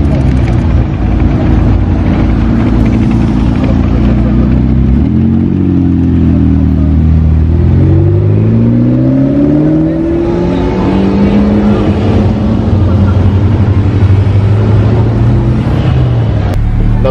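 A gold-coloured Nissan Nismo pulls away on a street in Monaco, its loud, close engine note rising and falling in pitch as it accelerates, with faint talk in the background.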